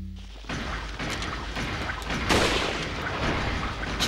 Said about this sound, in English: Since we have a flash grenade,